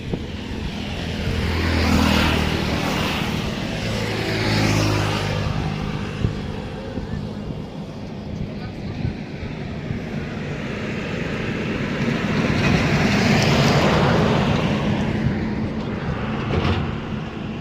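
Traffic rushes past on a road beside a bridge at dusk, a steady heavy roar with vehicles swelling loud and close around the start and again near the end, with a voice speaking over the noise.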